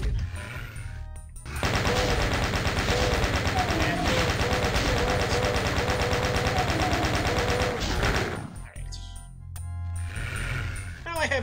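Sustained, loud gunfire from the video game Doom 2, a dense continuous burst of shots lasting several seconds, bracketed by brief quieter game sounds before and after.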